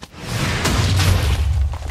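TNT blows up in the Minecraft video game with a single heavy, booming blast that rumbles on for about two seconds, loud and close.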